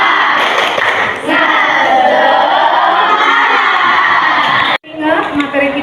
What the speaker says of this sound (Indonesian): ketua kelas siapkan untuk kita tepuk semangat